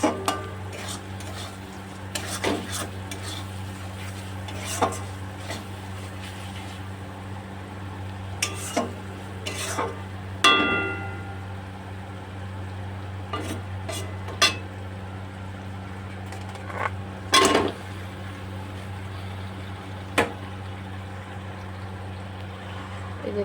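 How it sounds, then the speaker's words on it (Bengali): Catfish heads frying in hot oil that has already separated in a pan, with a low steady sizzle under repeated metal spatula scrapes and knocks against the pan, close by, with no talking. "এই যে দেখতে পাচ্ছ তেলটা ছেড়ে দিয়েছে তো আমি এবার এই মাছের মাথাটা দিয়ে দেবো"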